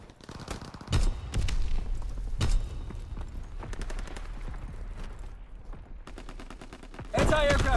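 An incendiary firebombing strike in Call of Duty: WWII, repeated sharp blasts and rapid gunfire bursts in irregular clusters, loud and close, with game voices in the mix.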